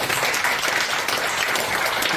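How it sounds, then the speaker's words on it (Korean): A church congregation at a worship service gives a round of applause, with dense, steady clapping filling the room at a constant loudness for a couple of seconds. "이 집행부에 대해서 우리 박수 한번 칩시다"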